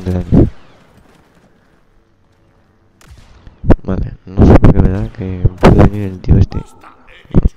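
Blaster secondary fire in Star Wars Battlefront 2 on PS4, loud sharp booming shots in an irregular burst after a quiet lull, with someone talking over the battle.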